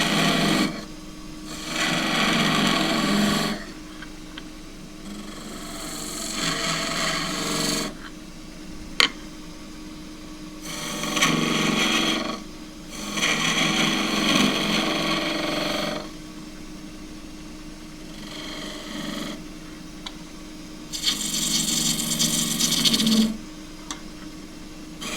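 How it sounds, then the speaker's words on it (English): A three-quarter inch skew chisel, long point down, details a Himalayan cedar goblet spinning on a wood lathe. Rasping cutting bursts of several seconds each alternate with the quieter hum of the lathe running. "Three-quarter inch skew again, long point down to do the detailing."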